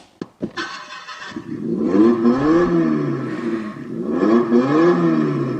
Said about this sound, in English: It's got the standard sound effect, revving up motor.